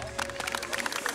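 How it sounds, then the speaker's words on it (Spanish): A brief burst of audience applause for a guest actor at a TV segment taping in Valdivia: a short patter of clapping from a small crowd. "Un aplauso a nuestro actor invitado para saludar."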